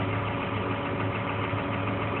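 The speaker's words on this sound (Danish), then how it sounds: "Jeg kører selv i en traktor." A tractor engine runs steadily while driving at night during harvest, a loud, continuous low rumble close by with no break in its drone.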